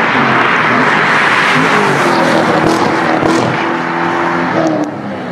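A Corvette engine revs hard and loud, a dense sustained roar close by that holds steady for several seconds before easing off slightly near the end.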